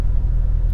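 A 2001 Mercedes S600 V12 rolls up close by, its engine giving a steady, heavy low rumble through a brief moment with no voices.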